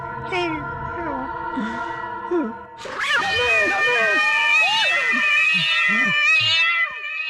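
A cat meows loudly and repeatedly close by, drawn-out wavering cries in quick succession, with a few overlapping yowls.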